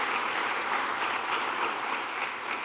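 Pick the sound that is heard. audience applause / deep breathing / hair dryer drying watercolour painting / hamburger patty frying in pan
audience applause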